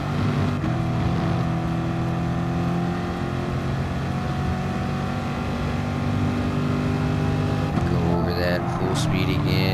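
A race car engine in Gran Turismo Sport drones loudly and steadily on a lap of Monza, holding one pitch before briefly shifting near the end.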